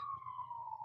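A police siren wails outside, a single steady tone sliding slowly downward, faint and distant, heard alone.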